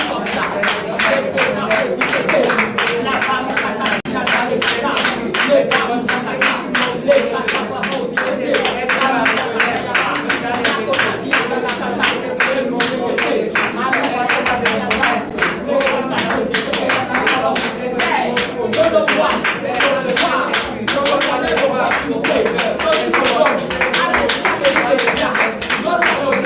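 Congregation at a prayer gathering claps rapidly and steadily in sustained acclamation, loud and close, with voices speaking and calling out over the clapping throughout.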